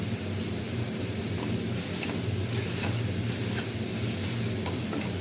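Tomatoes with turmeric sauté in a pan for a capsicum thokku, giving a steady, close sizzle with soft stirring scrapes throughout and no voice over it.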